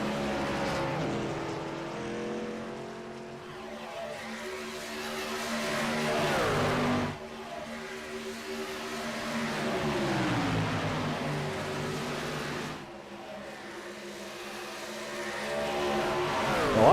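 Race trucks roar around a racetrack with engines rising and falling in pitch as they pass close by, three sustained sweeps of loud, droning motor noise.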